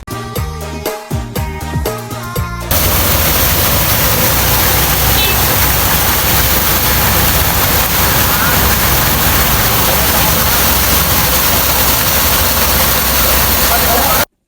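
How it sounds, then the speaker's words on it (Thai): Water gushes loudly and continuously from a repaired 8-inch pipe to flush out contaminants, a dense roaring rush that starts abruptly after a few seconds of other sound and holds steady. "เราก็จะมีการไล่สิ่งปนเปื้อนที่อยู่ในเส้นท่อออกมานะครับ"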